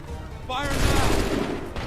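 Musket volley fired on command in Assassin's Creed III, a single loud crackling burst of many shots at once that rolls out and decays over a second, with voices around it.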